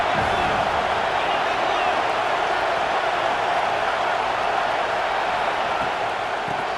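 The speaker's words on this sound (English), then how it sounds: "And the crowd coming to life here, trying to help this defense down in the red zone." A packed college football stadium crowd roars during Auburn vs. Georgia, a loud, continuous wash of cheering as the defense works in the red zone, with a commentator's voice faintly over it.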